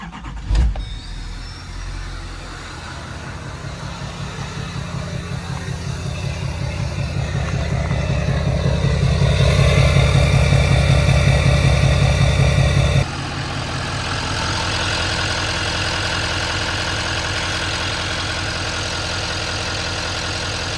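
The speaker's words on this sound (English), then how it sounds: "Let's start her up. This thing is stock, no lift pump, no nothing. Starts immediately." A stock Duramax LML diesel pickup truck cranks and fires almost at once, then settles into a loud, close, steady idle with a rough, clattering diesel rumble that grows slightly before evening out.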